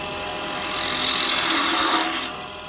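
A carbide detail tool shaves a wooden spinning top turning on a lathe, a close whirring hiss that climbs and holds through the middle of the cut, then eases back to the motor's hum.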